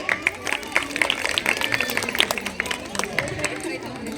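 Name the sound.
audience applause at Women's Day celebration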